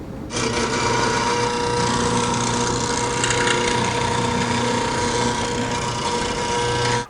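Mortising machine cutting square mortises into wood for a Greene and Greene style wall clock, a steady loud motor whine with grinding, rasping cuts running continuously.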